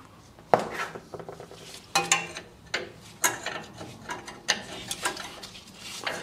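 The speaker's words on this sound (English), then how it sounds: "I can torque them back up to spec now." Torque wrench clicking and ratcheting on the wheel nuts of a Land Rover Defender during a brake disc upgrade, a series of close, sharp metallic ratchet strokes and clicks at irregular intervals, with no talking.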